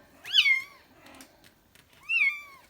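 Two high, thin kitten meows, one after another with a short quiet gap between, close by and fairly loud, from kittens in a pen inside a van.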